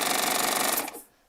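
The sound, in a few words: Baby Lock Triumph serger sewing machine running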